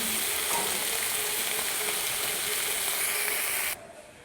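Vegetables fry hard in a hot pan, a loud, dense, unbroken sizzle that holds steady for several seconds and then suddenly drops to a faint hiss.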